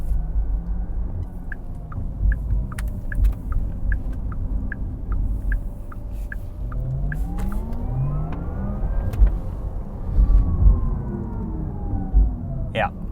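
Optional background drive sound of a Porsche Taycan Turbo electric sedan, a soft synthetic hum whose rising and falling tones track acceleration, heard continuously beneath cabin road noise with a speaking voice over it.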